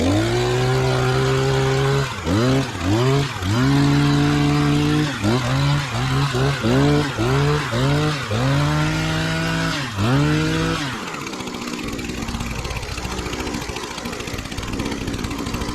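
Small gasoline engine, fed from a fuel rig after priming and choking, pulled repeatedly with rhythmic rising cranks and sputters, then catching and settling into a steady loud idle, close by with no talking.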